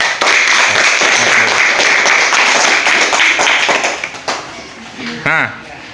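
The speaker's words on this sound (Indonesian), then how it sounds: "Ya, tepuk tangan." Applause in a school classroom: a burst of many hands clapping, dense and fairly loud, fading out toward the end as a voice cuts in briefly.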